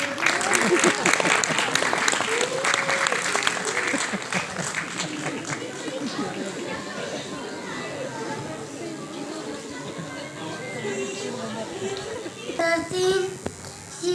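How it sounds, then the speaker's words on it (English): Audience applause at a play school annual function, loud and sustained for the full length, thinning a little midway and then swelling again near the end, with children's voices and crowd chatter mixed in. "please give a big round of applause and let's begin the show"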